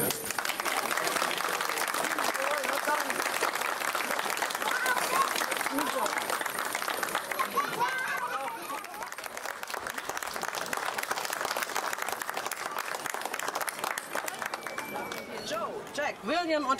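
Audience applause at a medieval market juggling show in Lauterbach: dense, steady clapping runs loud for about eight seconds, then thins and continues somewhat more scattered, with some voices mixed in.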